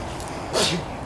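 A single person's sneeze bursts out at close range, a brief sharp hiss with a voiced tail, during outdoor garlic planting.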